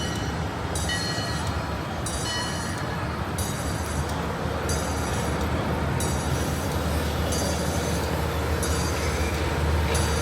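Train ride at Six Flags Over Georgia behind an old locomotive, with a steady loud rumble and clatter of rolling cars, a regular pulsing beat of wheel noise and faint high squeals throughout.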